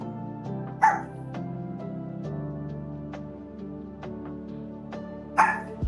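A small dog gives two sharp, high yapping barks several seconds apart, close by and loud over a steady, humming tonal background.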